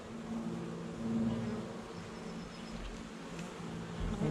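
Honeybees hum steadily during a spring inspection of a nucleus hive holding a captured swarm, a close continuous buzz with a few louder individual bees passing near.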